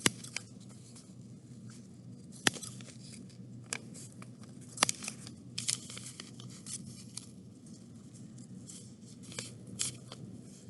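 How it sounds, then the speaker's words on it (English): Fabric scissors snip through fabric around a ladybug shape in quiet, irregular cuts, close up, with faint rustling between snips and no talking. "I'm going to grab my fabric scissors again."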